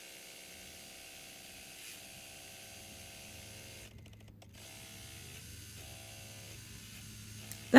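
A machine embroidering a design for a sublimation and embroidery T-shirt quilt project stitches steadily, a close, continuous whirring and ticking mechanical hum with harmonic buzz and a brief dip partway through, with no talking.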